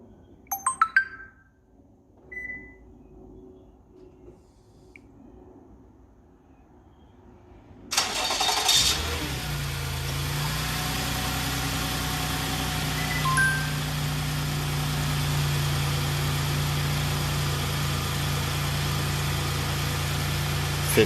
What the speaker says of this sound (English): Vehicle start.